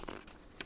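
A long paper installation chart for a Vizio soundbar is unfolded, giving a quick burst of crisp rustling and crinkling, a brief pause, then another sharp crackle up close.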